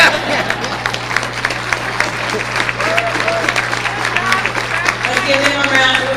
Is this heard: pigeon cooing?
no